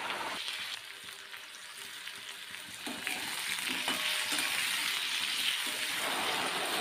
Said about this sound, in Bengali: এবারে আমি ওল আর আলুটা প্রথমে ভালো করে ভেজে নেব। কড়াইতে দিয়ে দিলাম।